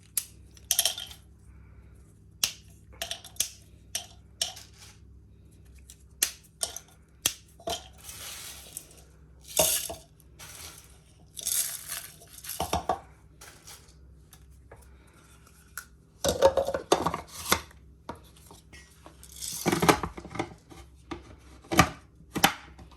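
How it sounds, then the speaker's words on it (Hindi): Dry cinnamon sticks snapped by hand into small pieces for garam masala, giving a series of sharp, close cracks and crunches in irregular bursts separated by quiet pauses. "ये सिनेमन स्टिक को हम छोटा छोटा तोड़ लेंगे इस तरह"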